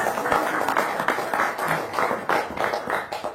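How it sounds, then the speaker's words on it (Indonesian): Audience clapping at a seminar talk, a steady patter of many hands spread evenly through the room, fairly loud and dense with no break, no voices over it. "Sip, tepuk tangan dulu dong."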